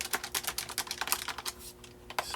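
Keys clacking on a Convergent Technologies WorkSlate keyboard in a quick, uneven run of about a dozen close, crisp taps, with a short pause before a final press.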